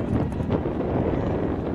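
Wind buffets the microphone at an outdoor football field during a game, a steady low roaring rumble with no clear voices, filling the whole moment without a break.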